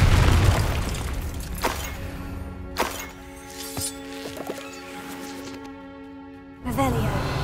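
Confringo fire-blast spell from Hogwarts Legacy: a few sharp booming bursts, separated by short gaps, set over a steady tonal game-music bed.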